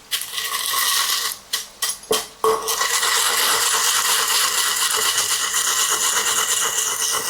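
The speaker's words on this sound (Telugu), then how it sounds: "బాగా వేయించుకున్న వాటిల్ని రోట్లో వేసుకొని దంచుకుందాము" Roasted coriander seeds, cloves, pepper and cardamom get pounded in a stone mortar, several sharp clacking strikes in a quick uneven burst, then a steady gritty grinding rumble with no talk.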